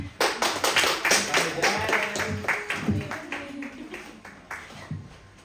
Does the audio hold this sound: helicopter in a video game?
no